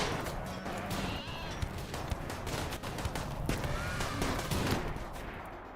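Gunfire in the video game RimWorld crackles in dense, overlapping bursts of rapid shots that run steadily through the whole stretch at moderate loudness. No one speaks.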